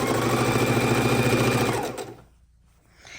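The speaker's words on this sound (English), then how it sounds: "go ahead and sew the first border on the top" A sewing machine stitches the first border onto the top of a pastel house quilt, running steadily and loud up close, then slowing and stopping before a short quiet pause.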